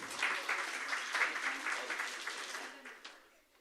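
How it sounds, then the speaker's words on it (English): Welcoming applause from a conference audience at an international research conference greets a speaker, a dense wash of clapping that holds steady for a few seconds and then thins and fades away. "With a big round of applause, please welcome Dr. Raza ur Rahman."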